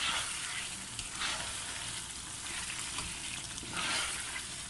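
Masala frying in oil for Sialkot dhaba-style chicken karahi, a continuous hissing sizzle with occasional swells from stirring, steady and moderately close without speech.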